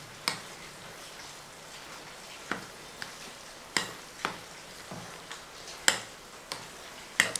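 Semolina snack batter being mixed by hand after curry leaves and asafoetida go in, a Kerala-style evening snack, giving a string of sharp, separate clicks and taps against the bowl at an irregular pace, close and moderately loud.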